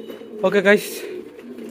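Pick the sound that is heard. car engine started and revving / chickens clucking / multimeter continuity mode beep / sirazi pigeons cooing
sirazi pigeons cooing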